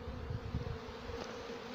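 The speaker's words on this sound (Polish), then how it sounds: "wprowadzają się pszczoły bardzo intensywnie" A honeybee swarm moving into a hive in Bydgoszcz makes a dense, steady buzzing hum, close and continuous, with no voices over it.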